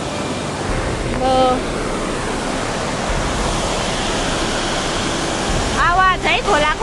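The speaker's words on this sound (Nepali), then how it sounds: "आवाज है खोलाको आम्बो" A river stream rushes loudly and continuously nearby, a dense broad roar, with brief voices cutting in near the start and end.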